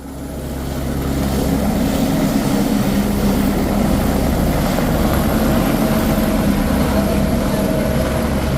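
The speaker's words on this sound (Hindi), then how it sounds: "तो हमने गोविंद घाट से हेली लिया, जिसका किराया 3016 रुपये है एक तरफ जाने का, और हम लोग सीधे पहुँच जाते हैं घांगरिया।" A helicopter on the flight from Govind Ghat to Ghangaria in Uttarakhand builds up from the start into a loud, steady rotor and engine drone with a rapid chopping pulse, heard from inside or nearby.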